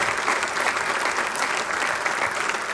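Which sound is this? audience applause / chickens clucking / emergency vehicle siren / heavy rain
audience applause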